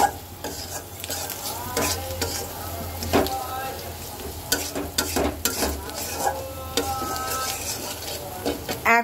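Turmeric and coriander powder spices frying in a pan while being stirred, with a steady close sizzle and repeated scraping and clinking of a spoon against the metal.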